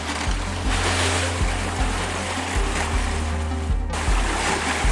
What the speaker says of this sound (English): So we're sailing into the Fort Pierce entrance now.